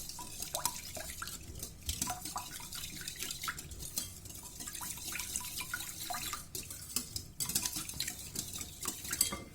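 Ingredients being stirred together in a bowl for pizza dough: milk, baker's yeast, sugar and an egg. Close, continuous scraping and clinking of a utensil against the bowl with small wet splashes, steady and busy throughout, with no talking.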